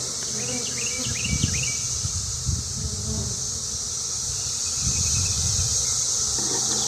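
Honeybee swarm buzzing steadily around open brood frames with dark cappings, a dense continuous drone with occasional louder passes of bees flying close.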